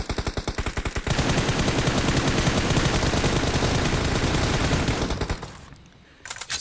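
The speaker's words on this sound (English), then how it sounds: "See the barrage of shots and those grenades doing a bit of damage onto Zombie Boys NA." Rapid automatic gunfire and grenade blasts in a PUBG Mobile scrim match, a dense, loud barrage of overlapping shots that runs almost without pause before dropping away near the end, with no talk.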